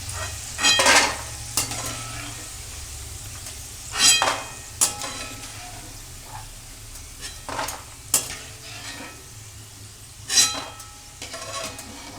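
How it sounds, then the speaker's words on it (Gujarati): Gunda kachri, dried gunda pieces, frying in hot oil over a low flame, with a steady bubbling sizzle, repeated loud bursts of stirring and spoon scrapes against the pan, and no talking. "બસ આ રીતની જ તરાવા દેવાની."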